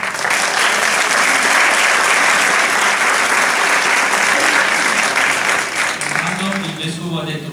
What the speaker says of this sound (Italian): Lo salutiamo con un applauso.